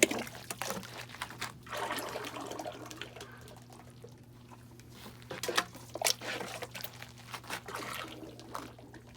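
Liquid clay pours steadily into a cloth-lined trough in a continuous wet trickle and splash, with a few louder sloshes, close and without talk.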